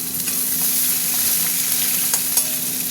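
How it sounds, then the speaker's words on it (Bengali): Onions fry in hot oil in a pan, a close, continuous sizzle with small crackling pops over a few seconds. "পেঁয়াজটা ভাজা ভাজা হোক।"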